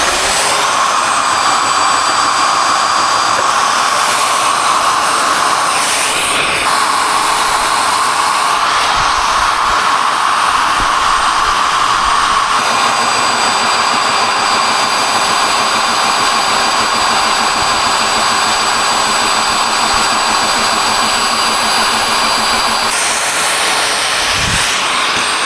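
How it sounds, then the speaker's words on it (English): A magnetic drill clamped to a steel plate bores decorative holes in aluminum in a home garage, giving a loud, continuous motor whine and grinding drone that shifts slightly in pitch as each cut progresses, with no talking. "I got a mag drill. Magnets don't stick to aluminum, so I got a big plate that I set that on."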